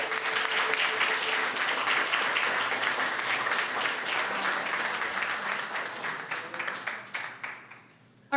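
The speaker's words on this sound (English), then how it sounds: "one last round of applause" An audience at a school board of education meeting gives a sustained round of applause, dense steady clapping that thins out and fades over the last seconds.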